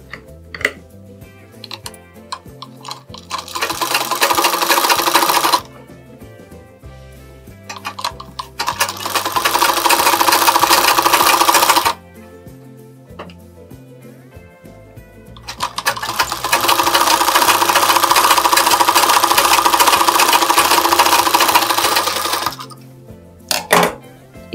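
Domestic sewing machine stitching along the edge of a blouse lining, three loud close runs of rapid rattling stitches separated by short pauses with light handling clicks.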